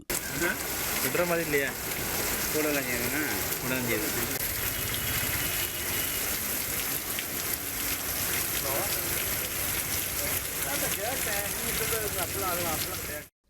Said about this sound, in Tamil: நெல்லை டவுன், பாளையங்கோட்டை, தச்சநல்லூர், வண்ணாரப்பேட்டை உள்ளிட்ட இடங்களில் கனமழை பெய்தது